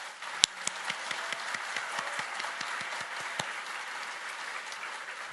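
A church congregation at a large Shincheonji gathering in Suwon applauds, a dense, even wash of many hands clapping, moderately loud and steady with a few sharper individual claps standing out.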